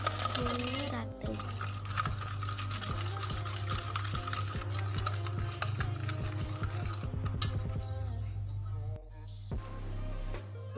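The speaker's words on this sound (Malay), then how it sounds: "Kemudian kacau-kacau-kacau sehingga semuanya rata." A spoon stirs and scrapes chocolate chip cookie dough ingredients in a bowl with repeated rhythmic rubbing and clinks, under a steady background hum.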